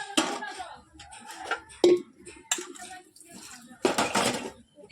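Dishes, pots and metal utensils clatter and clank as they are washed by hand. The knocks come in irregular bursts, loud at times and sparse at others, with a voice talking in between.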